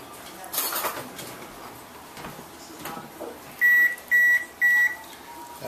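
An oven that has finished preheating gives three evenly spaced electronic beeps, clear and fairly close. Soft kitchen clatter comes before the beeps.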